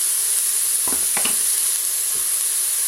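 Turkey pieces brown in a pan for curry, a steady bright hiss of sizzling fat with a few brief scraping stirs in the middle.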